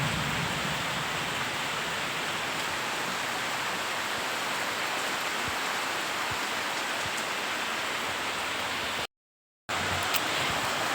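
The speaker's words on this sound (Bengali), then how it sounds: "আর এদিকে দেখো প্রচণ্ড পরিমাণে বৃষ্টি হচ্ছে।" Heavy rain pours in a steady, dense hiss that stays loud and unbroken, apart from a brief cut near the end. Nobody speaks.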